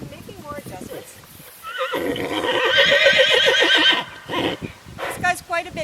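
A large pack horse whinnies loudly while pack gear is fitted and adjusted. The neigh swells mid-clip amid hoof clops and shuffling, and someone talks before and after it.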